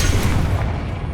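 A Confringo explosive spell goes off in Hogwarts Legacy, a loud, close, sustained booming blast with heavy low rumble filling the whole short moment of video game combat.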